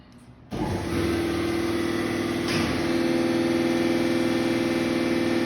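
A Springfield 2-1/2 A-TR vertical universal grinder starts up under power after a quiet moment, then settles into a loud, steady motor whine and hum. A slight shift partway through adds a brighter tone, and no one speaks.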